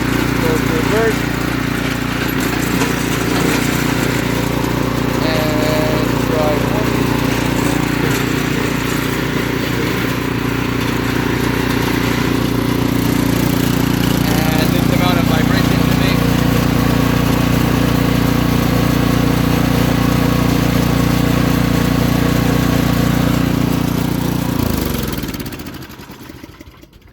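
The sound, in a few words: snowblower running with swapped LCT engine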